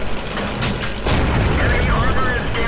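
Tank cannon shots in the World of Tanks game, heavy booming blasts with mechanical clanks, loud and close over dense battle noise, with a voice talking over part of it.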